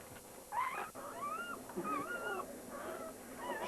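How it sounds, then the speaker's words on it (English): A newborn puppy whimpers and yips in a string of thin, high, wavering cries, fairly close and moderately loud, with a litter being born indoors and no clear talk over it. "Oh, she's got a puppy."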